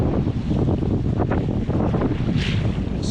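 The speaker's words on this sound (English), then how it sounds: "It's windy." Strong wind buffets a sailboat at sea, a loud, constant roaring rush with microphone gusting throughout and a brief splash of wave spray near the end.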